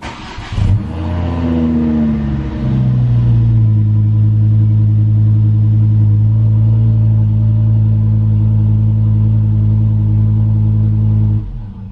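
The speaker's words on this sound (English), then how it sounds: "now this car is going to be quite loud because it's got a modified exhaust on it." A car engine with a loud modified exhaust fires up, then settles into a deep, steady, booming idle that drones close and loud for about ten seconds before cutting off.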